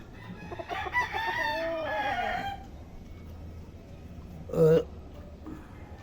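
Roosters at a gamefowl farm give one long crow followed a few seconds later by a short, sharp cluck, close by against a faint, quiet background.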